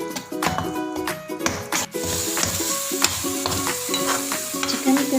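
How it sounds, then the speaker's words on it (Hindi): Marinated chicken pieces frying in masala in a pan, a steady loud sizzle with repeated stirring and scraping knocks throughout, no talk. "अब हम इसमें जो चिकन का पीसीस थे जो मैरिनेट हो गए थे ये डालेंगे। बहुत अच्छे तरीके से हम भून लेंगे।"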